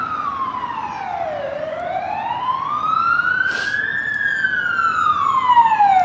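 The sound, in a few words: emergency vehicle siren on Blackpool Prom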